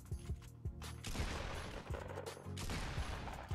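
Rapid bursts of gunfire from a Fortnite match, several sharp shots in quick irregular succession over a dense, continuous background of game sound, loud and close.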